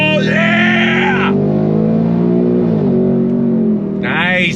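A 2024 Ford Mustang GT's engine pulls hard under throttle with a loud, rising drone, while excited voices shout over it at the start and end.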